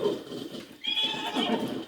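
A horse in the video game Zelda: Breath of the Wild neighs in a drawn-out whinny with a clopping of hooves, fairly close and moderately loud, no one talking.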